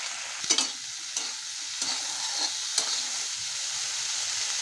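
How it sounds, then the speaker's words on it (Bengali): Figs frying in hot oil in a pan, a steady close sizzle with a few brief scraping stirs of the spatula and no talking. "এবার আমি ওই তেলের মধ্যে ডুমুরটা ভেজে নেব।"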